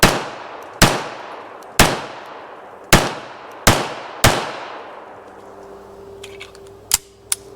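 A Colt M45A1 1911 pistol fires six sharp, loud shots outdoors in an even rhythm about one second apart, each with a short ringing decay, then a quieter tail with a faint hum and a couple of small clinks.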